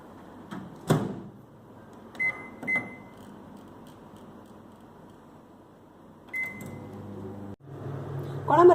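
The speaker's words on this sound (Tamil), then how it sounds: "ஒரு 3 நிமிஷம் இல்லை 4 நிமிஷம் வரைக்கும் நம்ம இப்போ மைக்ரோ ஹையில் வைக்கலாம்" A microwave oven runs on high power heating a drumstick curry in a home kitchen, a steady low hum filling the background, with a few short beeps and faint clicks and knocks scattered over it and a louder rumble near the end.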